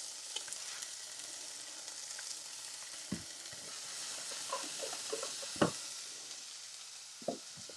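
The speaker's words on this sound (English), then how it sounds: "this is just going to saute for 2 to 3 minutes just so that it gets a little bit translucent" Vegetables sauté in a pan with a quiet, even sizzle, broken by a few soft clicks and taps of a utensil against the pan around the middle and end.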